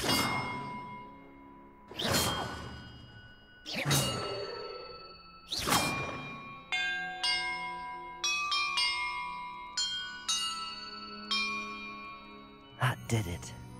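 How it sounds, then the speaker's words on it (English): Bells ring in the video game Hogwarts Legacy, several separate resonant clangs struck one after another with long ringing decays, then a run of quicker overlapping chimes and a final pair of strikes, heard clearly without talking. "Perhaps the map contains clues about the Order I'm supposed to ring the bells in."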